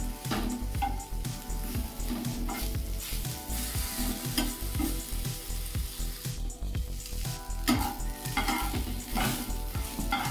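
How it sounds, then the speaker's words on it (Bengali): Eggplant pieces frying in a little oil in a pan, a continuous close sizzle with repeated rhythmic stirring and scraping of a spatula against the pan throughout, and no voices. "দেখো অল্প তেলে আমার ঝোলের বেগুনগুলো ভাজা হয়ে গেছে।"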